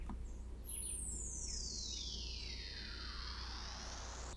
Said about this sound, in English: Then I also have this pretty transitional effect here.